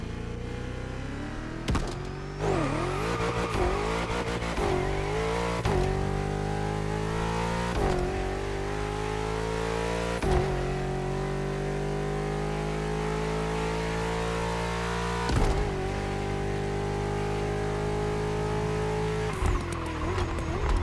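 A BMW M5 CS accelerates hard, its engine roaring loud and close as it climbs through the revs with sharp breaks at each gear change, one pull after another with no talking.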